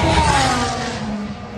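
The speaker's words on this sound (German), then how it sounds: "Die Autos fahren hier vorbei mit einer Geschwindigkeit von" Formula 1 car screaming past at high speed during Friday practice at the 2022 Hungarian Grand Prix, a loud continuous engine whine that drops in pitch as it passes close by.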